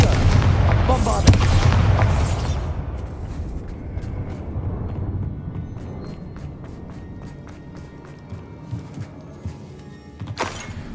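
Confringo and Bombarda blast spells from Hogwarts Legacy explode in heavy booming bursts, a loud blast near the start followed by rumbling and scattered crackling debris, with a sharp burst again near the end.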